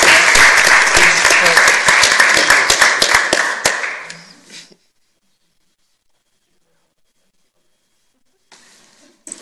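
Round of applause at a school board meeting honoring young students, dense clapping for about four seconds that fades out, followed by near silence and a faint stir of room noise at the end.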